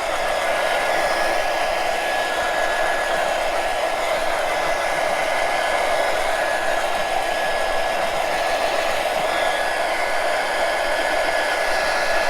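Hair dryer blowing across icing on a large decorated cookie: a continuous, even whir held close and loud for the whole stretch, with no talking.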